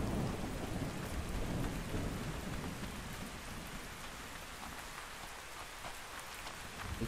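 Rain falls in the video game ARK Survival Ascended, a steady, dense hiss of downpour with deep thundery rumble underneath, continuous throughout and with no one talking.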